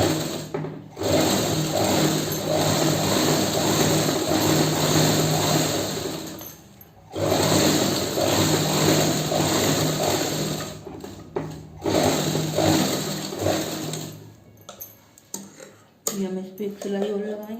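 A sewing machine runs in several long stitching bursts through fabric, steady and close, separated by brief pauses while someone talks intermittently in Hindi over the whirring.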